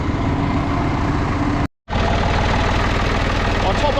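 A farm tractor's engine runs at a steady, loud, close idle with a rough, knocking rumble, broken by a brief dropout of sound partway through.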